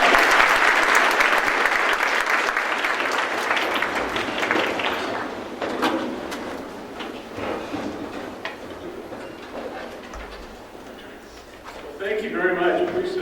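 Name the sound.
audience applause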